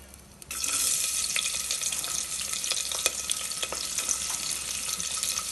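Food frying in hot oil in a home kitchen, with green chilies and onion about to go in; a steady broadband sizzle starts abruptly after a short quiet moment and carries on loud and close, with occasional sharper pops and crackles.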